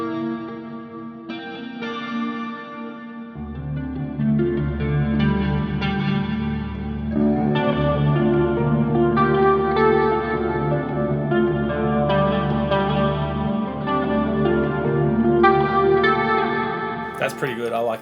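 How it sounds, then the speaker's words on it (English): An electric guitar played through a HeadRush unit with delay and reverb, with reverb on each delay repeat. Sustained clean notes and chords ring out into washy, echoing repeats that fill the space steadily. "in this case I thought it'd be cool to have each delay repeat have reverb on it"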